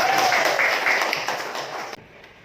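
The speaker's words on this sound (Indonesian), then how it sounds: "Ayo, beri tepuk tangan lagi, Pak." Classroom applause from students, a dense burst of hand clapping that carries on for about two seconds and then stops abruptly.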